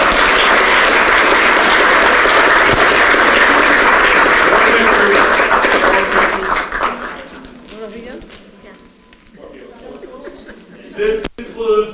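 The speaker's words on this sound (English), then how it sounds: "let's give them a little bit round of applause" An audience at a naturalization ceremony breaks into loud, sustained clapping that fades after about seven seconds into scattered claps, shuffling and murmured talk.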